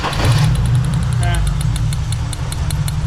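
A Ford Falcon's engine cranks and catches, then settles into a rough, rhythmic idle close by, with a faint voice briefly underneath.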